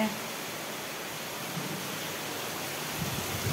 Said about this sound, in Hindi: इतना ज़ोरों का बारिश हो रहा है